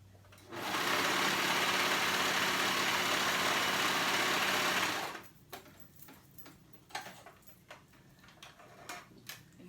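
A cover stitch sewing machine runs steadily for about five seconds, stitching a hem on a curved hem pocket tank top, then stops, leaving soft handling and fabric sounds.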